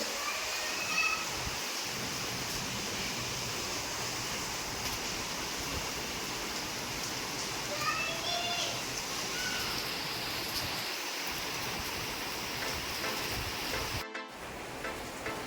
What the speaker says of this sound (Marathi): मस्त पाऊस चालू आहे